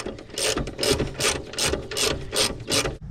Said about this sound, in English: Gonna get the ratchet.